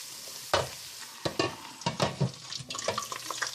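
Pork fat renders in a pan for kuyrdak, a close, steady sizzle and crackle with sharp scraping strokes as it is stirred at irregular intervals.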